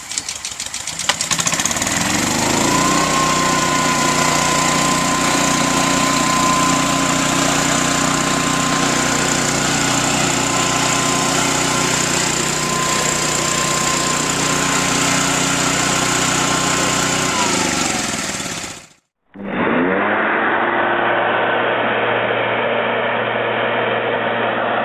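A gas-powered hover mower engine runs loud and steady at close range for almost twenty seconds, cuts off briefly, then starts again with a thinner drone.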